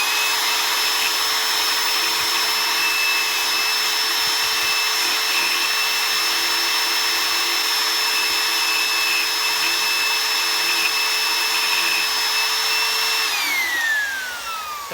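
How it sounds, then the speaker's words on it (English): A drill with a high speed steel bit boring into a solid lump of steel from an office chair's height adjustment; a loud, steady whine with sustained high-pitched tones runs throughout, then drops in pitch as it slows near the end. "That's quite a solid lump of steel there, and it's the only thing that'll drill through it."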